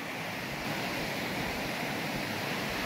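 Steady broadband rushing of a creek flowing between mountains in the countryside between Kastamonu and Çankırı, continuous and even throughout, with no voices.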